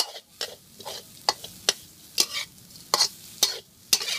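Chopped field rat meat dry-roasting in a pan without oil: repeated sharp stirring scrapes and clacks of a utensil against the pan over a soft sizzle, close and fairly loud, with no talking.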